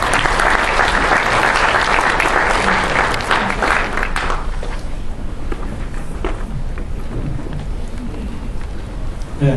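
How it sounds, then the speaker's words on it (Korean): An audience at a design policy forum in Seoul breaks into loud, dense applause welcoming a speaker, steady at first and then thinning out and fading into scattered claps. "큰 박수로 환영해 주시기 바랍니다"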